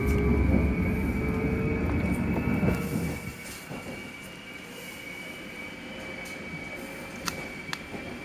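A London Underground train on the Metropolitan line route runs loudly at first, with rumbling wheels and faint squeals. The sound then eases to a quieter hum with a few sharp clicks near the end.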